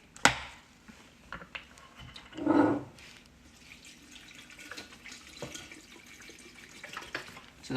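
Coconut water poured into a blender for a green smoothie, a faint trickle and splash with one brief louder gush midway, close and quiet with no talk.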